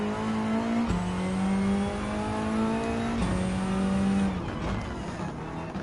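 Lancer Evo 9 race car in Gran Turismo 7 holding a steady high engine drone with a sharp gear shift near one second and another past three seconds, loud and close, tires faintly squealing, no voices.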